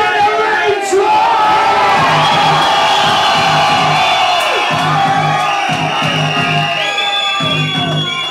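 A packed club crowd at a bass music night in Newcastle's Cosmic Ballroom screams and cheers loudly and continuously, with thumping bass pulses underneath.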